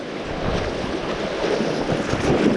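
Rushing water at a mountain stream crossing on a trout fishing hike at Cooleman, NSW, a loud, dense, continuous roar that stays steady throughout with no break or voices.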